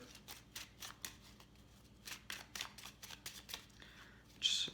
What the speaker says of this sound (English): Okay, so just a few more shuffles here.